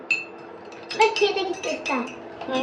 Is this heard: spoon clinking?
yes